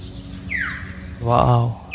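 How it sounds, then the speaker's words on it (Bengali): Birds call in a deep mangrove forest on Char Kukri Mukri island: a few rising chirps stand out over a steady high insect drone, with a brief voice-like call mid-way. "পুরো একদম গভীর জঙ্গল খালি পাখির আওয়াজ"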